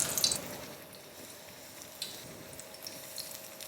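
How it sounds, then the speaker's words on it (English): Brinjal slices deep frying in hot oil in a kadhai give off a soft, steady sizzle with faint crackles and pops, heard close and alone. "We'll now add the brinjal slices to the oil."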